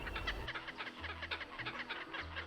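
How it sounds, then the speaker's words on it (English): Birds calling in Queensland bushland on a hike, a series of repeated clucking, chattering calls at moderate distance, over a faint low background hum. "We're trying to listen to the birds"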